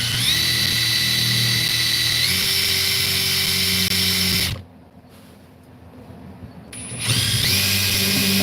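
Loud whining power drill boring into stone, running steadily, pitch shifting slightly, then stopping for about two seconds before starting up again.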